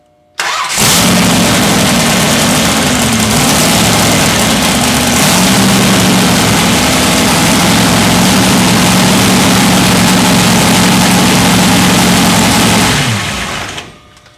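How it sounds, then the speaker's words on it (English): An engine cranks and starts, then runs steadily and loudly at a constant idle while pumping oil through a filter assembly, before cutting off abruptly near the end. "we're going to start the engine and you'll be able to visually see the fluid being pumped through the filter"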